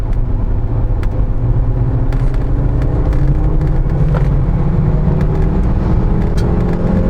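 Turbocharged engine of an Audi 200 pulls steadily in third gear, a continuous in-cabin drone and rumble rising gradually in pitch as it accelerates, with no voices over it.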